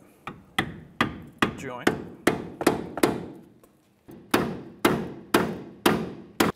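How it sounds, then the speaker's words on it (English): A hammer drives a small flathead screwdriver into the ball joint area of a 2007-2013 Mitsubishi Outlander while a wheel bearing is being replaced. Sharp, close metallic strikes ring in two rhythmic bursts of about a dozen hits, with a brief pause between them. "see if we can hammer it in far enough to open up that"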